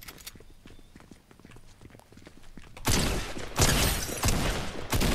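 Gunfire erupts in a Fortnite match: after quieter footsteps and shuffling, loud bursts of rapid shots hit in several close, punchy volleys.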